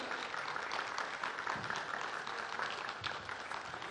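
Audience applause welcoming guests to a church fireside chat, a steady wash of clapping from a modest crowd, fairly faint and continuous without talk.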